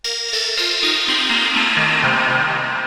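Zebralette 3 single-cycle waveform synth plays bright, bell-like tones in a descending run of notes, each ringing steadily and loudly on its own with no voices.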